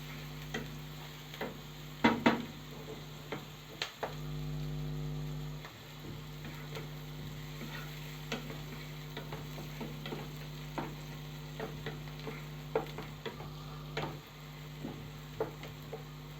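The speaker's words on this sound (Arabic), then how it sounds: "نحمر البصل كده لغايه لما ياخد اللون الذهبي." Onions frying in a pan until golden give a soft, steady sizzle with a low hum beneath, dotted with occasional spoon taps and scrapes, heard closely and without speech.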